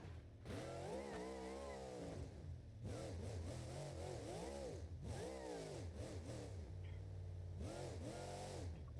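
A twin-screw supercharged engine in the BeamNG.Drive game, a Monster Jam truck, revs repeatedly in rising and falling sweeps, with a whining, high-revving tone that swells in several bursts and then drops back.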